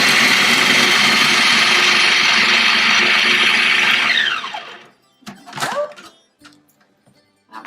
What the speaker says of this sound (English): put it right in here back in the food processor. And we're going to do a similar thing, which is just putting it low